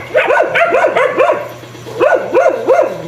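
A dog barks in two quick bursts of three or four yips each, close and loud, with a short pause between them.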